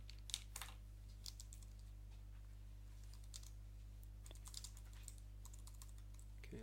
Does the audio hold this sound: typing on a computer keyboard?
yes